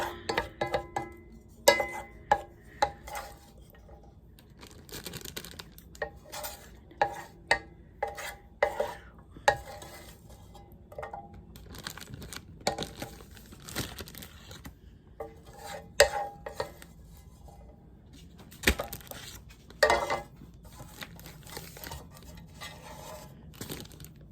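A utensil scrapes and taps around a non-stick pan of sofrito, producing irregular clicks and scrapes with quiet pauses between them, close but soft, and no one talks.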